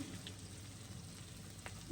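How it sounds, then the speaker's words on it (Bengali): Onion, chili and whole garlic cloves frying in oil in a home pan for a fish dish, a faint, steady soft sizzle with a couple of light crackles, no voices. "মাছ রান্নার জন্য পেঁয়াজ আর মরিচ একসাথে ভেজে, এই যে রসুনও দিয়ে দিয়েছে"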